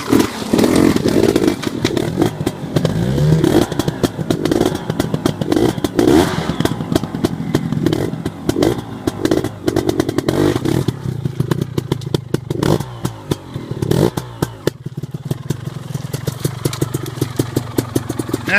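A KTM Freeride 250R dirt bike engine revs and putters close by during off-road riding, a choppy, uneven two-stroke drone with clattering bumps and throttle blips that continues for nearly twenty seconds.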